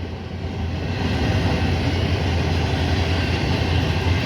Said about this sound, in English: But we got an empty container train, piggyback train, pig train coming through here.